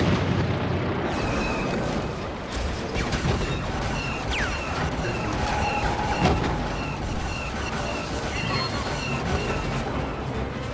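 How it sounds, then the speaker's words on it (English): Rebel bombers make an attack run in Star Wars Battlefront, with steady distant explosions and artillery-like rumbling under a continuous battle din, plus faint whistling and mechanical noise, but no clear single blast. "Rebel bombers are making their attack run."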